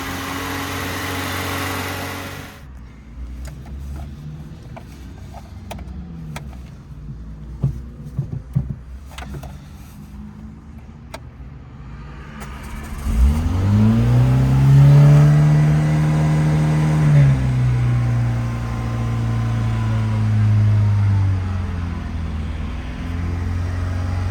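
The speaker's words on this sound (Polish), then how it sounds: "Dobra, słyszeliście jak silnik pracuje, teraz go zgasiliśmy." A Peugeot 205 Junior with a manual choke is worked on, with a few clicks and clanks, then its engine starts and idles loudly up close, rising in a rev before settling into a steady run.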